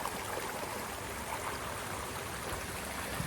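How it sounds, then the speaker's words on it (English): Water leaking from a pond waterfall pipe and flowing down a hill outdoors, a steady close rushing and trickling wash with no pauses. "the water is somehow leaking and backing up and starting to flow down the hill here"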